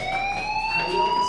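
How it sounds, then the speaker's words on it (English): A loud, steady electronic fire alarm tone in Life Is Strange sounds continuously, with faint background noise beneath it. "do you hear that fire alarm?"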